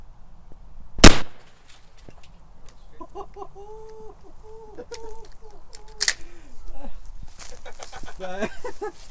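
A rubber bullet round fired from a gun gives one sharp, loud crack near the start and another sharper report later, with clucking chickens and other faint background noise between them.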